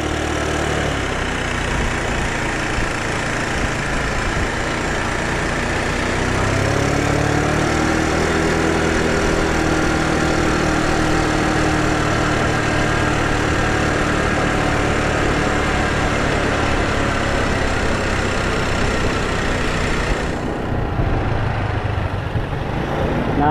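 A motorcycle engine runs at a steady, loud idle for over twenty seconds at a house construction site where it hauls tile. The hum is constant, with a slight rise partway through.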